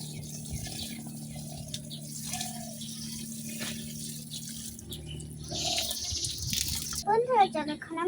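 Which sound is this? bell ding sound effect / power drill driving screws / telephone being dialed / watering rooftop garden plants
watering rooftop garden plants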